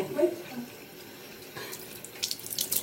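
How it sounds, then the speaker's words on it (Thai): Tap water runs steadily from a faucet into a sink while hands are washed, a continuous close hiss with brief splashy bursts near the end. "ล้างมือก่อน"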